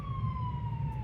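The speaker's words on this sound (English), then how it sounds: "ambulance." An ambulance siren sounds as it passes, a single steady wailing tone sliding slowly downward in pitch over constant traffic rumble, fairly loud and with no voices.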